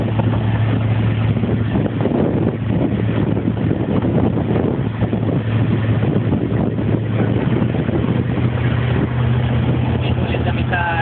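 A loud, constant motorboat engine drones with wind buffeting the microphone, steady throughout with faint voices mixed in.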